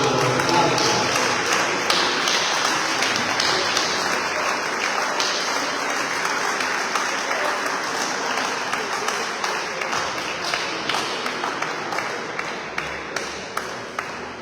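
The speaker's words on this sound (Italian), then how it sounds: "Applauso, applauso." Applause at a Sardinian Veterans awards ceremony in Alghero, full and sustained at first, then thinning into sparser individual claps toward the end, with some voices in the room.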